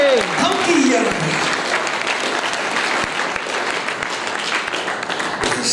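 A congregation at a South African prayer evening claps for Jesus, sustained loud applause from a crowded room lasting several seconds, with a voice briefly heard near the start.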